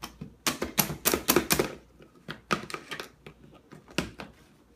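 A machine mashing Doritos chips into crumbs for a Mountain Dew cake topping, giving bursts of sharp crunching and clattering in quick irregular clusters, loud and close, with brief pauses between runs.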